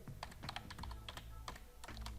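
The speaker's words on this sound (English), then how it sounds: "and press S in the keyboard" Rapid, steady clacking of computer keyboard keys as someone types, a close and quiet run of key presses with no voices.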